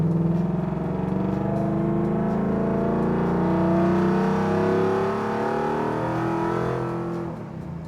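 Coyote V8-swapped 1995 Ford Bronco Eddie Bauer Edition heard from inside while driving, its engine a steady loud drone with rising and falling harmonic tones as it pulls through gears, easing slightly near the end; no talking.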